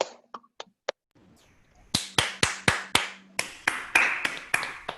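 Sparse applause at an online conference over Zoom, with a few isolated claps, then a quiet gap, followed by a run of sharp, close, regular claps from one or two participants.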